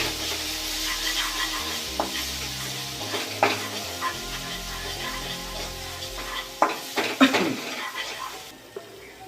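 Spiced masala for a Bengali egg curry with curd sizzles in a pan over low-to-medium gas, with a spatula stirring and scraping in irregular strokes and a few louder clatters near the end.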